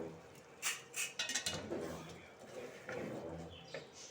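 Metal spoon clinks against a pot while coriander and mint are stirred into half-cooked chana dal, a few sharp clinks close together early on, then softer scraping and rattling.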